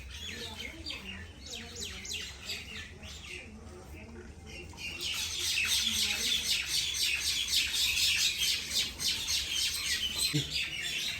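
Many small birds chirp and squabble in a rapid, overlapping chatter in a tree, growing louder midway and continuing steadily, fairly close by.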